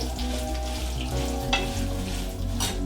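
Guntur Byadgi dry red chillies frying in a hot pan, a steady close sizzle and crackle running throughout with brief stirring scrapes, no voices.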